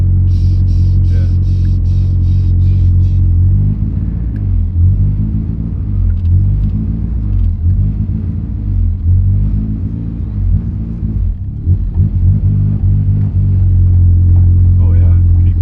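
Mitsubishi Evo 1 with a newly installed exhaust, deep steady engine rumble close by with rising and falling revs while driving, continuous throughout.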